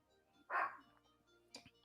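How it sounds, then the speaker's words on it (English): A dog barks at a postman: one loud, close bark, then a second, shorter yap a second later, over a quiet room. "That's the dog now, because she's seen a postman."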